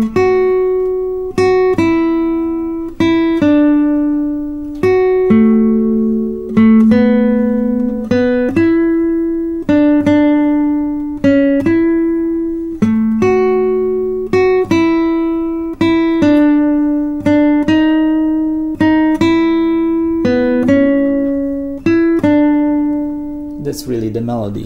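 Classical guitar picking out only the single-voice melody line of Sor's Study No. 6, with steady, evenly spaced plucked notes ringing clearly and close for about twenty seconds.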